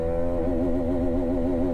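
A Hero Karizma XMR motorcycle engine pulling away in first gear, a loud, close, steady buzzing drone with a slightly wavering pitch.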